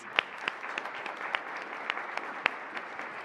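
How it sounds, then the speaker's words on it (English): A church congregation gives a light, scattered round of applause, individual sharp claps standing out against a soft, steady patter at moderate distance. "And I ask you to applaud that as well"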